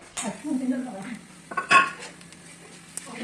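Fennel seeds, cardamom and black pepper dry-roasted on a griddle over low flame, heard as soft scraping and stirring with a few light metallic clinks of a utensil against the pan, close and moderately quiet, with no voices.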